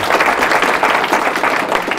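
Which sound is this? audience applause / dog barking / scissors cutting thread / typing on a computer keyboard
audience applause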